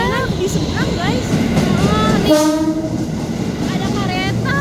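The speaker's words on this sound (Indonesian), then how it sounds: "Ada kereta." Train rumbling past close by with a sustained horn blast in the middle, its rolling clatter continuous throughout, and voices talking faintly underneath.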